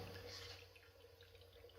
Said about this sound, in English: now that I've got my water supply slowly filling up my first canister,